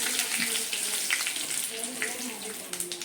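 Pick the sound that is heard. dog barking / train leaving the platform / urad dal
urad dal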